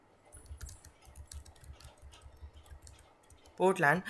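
Quiet, rapid keystrokes on a computer keyboard tap out a query in an even, close-up patter, and a brief voice cuts in at the very end.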